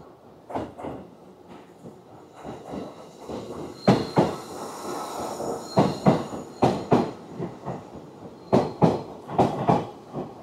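A train at a station in Tachikawa, Japan, rolls past with a rhythmic clickety-clack of wheels over rail joints, loud and close, and its thumps grow more frequent as it moves on.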